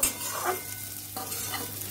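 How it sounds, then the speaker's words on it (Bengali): Bitter gourd fries in a pan, a steady close sizzle broken by a few scraping stirs, with no voices present. "উচ্ছে ভাজাটাও হয়ে গেল"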